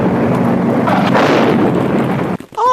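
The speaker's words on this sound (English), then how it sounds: "There was a huge explosion!" A huge explosion sound effect in an audio drama, a long, loud, rumbling blast that swells and roars for about two seconds before cutting off sharply, followed by a brief high ringing tone.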